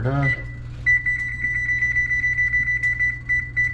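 A kitchen timer set for cooking Mexican rice gives a sustained electronic beep, steady and fairly loud, with a faint pulsing over a low background hum.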